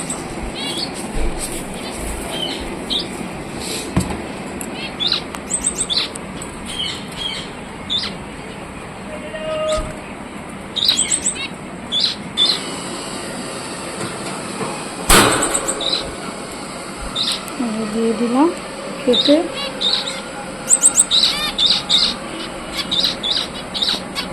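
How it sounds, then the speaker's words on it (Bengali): Pet birds in an indoor home chirp in short, high, repeated calls through the clip, with household knocks and clatter and a few brief sharp bangs around them. "আর এই যে পাখিগুলোকেও খেতে দিতে হবে"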